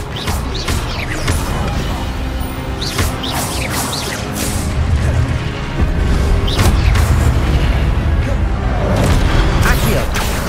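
Expelliarmus disarming spells cast again and again in a Hogwarts Legacy fight against brutes on PS5: repeated booming, crashing magic impacts and whooshes over a steady roar of battle, with a voice heard through the combat.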